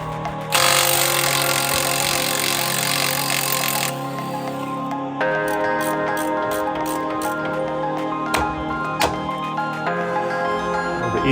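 Metal hammer blows on a Ford Ranger during a driveway lift kit install: a run of sharp, fairly regular strikes, close and loud, following a stretch of harsh broadband mechanical noise.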